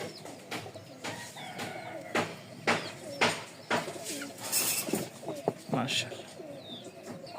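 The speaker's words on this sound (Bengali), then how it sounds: "এখানে লাল এক জোড়া গররা দেখতে পাচ্ছেন" A pair of red Gorra pigeons cooing up close in a repeated, uneven rhythm of soft throaty coos, with a few chirps from other birds around them.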